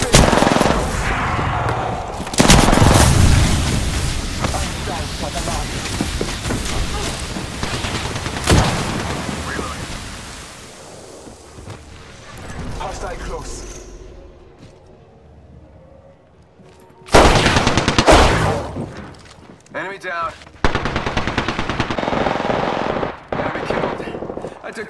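Automatic weapons fire from a first-person shooter, Apex Legends, in long rattling bursts with loud cracks, a quieter lull in the middle, then a final heavy flurry.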